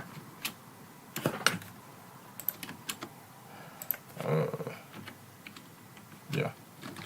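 Scattered clicks and taps of someone typing on a computer keyboard, in short irregular bursts of keystrokes near the microphone, with a voice briefly murmuring between them.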